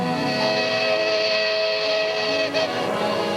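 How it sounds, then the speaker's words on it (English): Clinchfield No. 1 steam locomotive sounding a long, steady answering whistle, loud and close, with a faint hiss underneath and a brief dip near the end. "get an answering whistle from the little engine"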